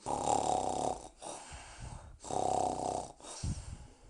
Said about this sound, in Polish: Nazajutrz Gaweł jeszcze smacznie chrapie.